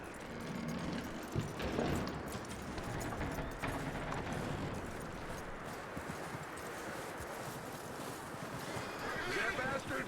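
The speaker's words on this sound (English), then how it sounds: "That looks like a decent horse." Horse hooves thud softly through snow in Red Dead Redemption II during a snowstorm, a muffled clip-clop under wind noise and a faint game score, with a voice heard briefly.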